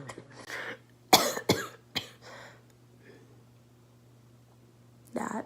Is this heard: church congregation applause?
no